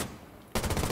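Automatic weapon fire in a video game, a sudden loud burst of rapid shots that starts after a quiet half-second and keeps going to the end.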